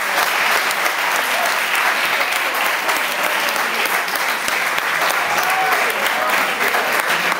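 Sustained applause from a lecture audience, dense clapping at a steady loud level for the whole stretch.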